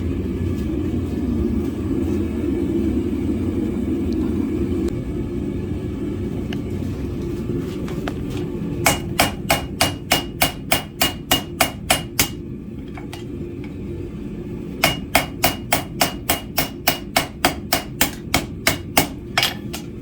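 Rapid, evenly spaced hammer blows ring out on an anvil while setting and firming a forge weld in a blacksmithing class, two loud bursts of about a dozen sharp metallic strikes each over a low rumbling background.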